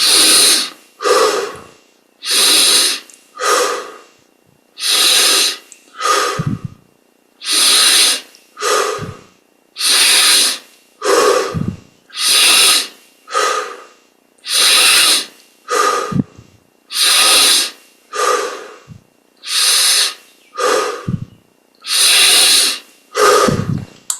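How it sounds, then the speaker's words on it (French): Deep, forceful breathing during a guided apnea meditation, a long regular series of loud close inhales and exhales, each lasting about a second, repeated steadily with short pauses between. "Allons-y, inspire."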